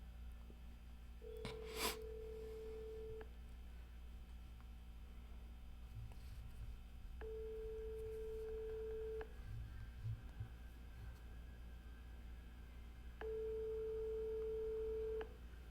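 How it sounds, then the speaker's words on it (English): Telephone call to a child care center in Minneapolis, Minnesota, with a click, then three long ring tones spaced several seconds apart over a quiet line hiss. "listen to where this phone number goes to when you"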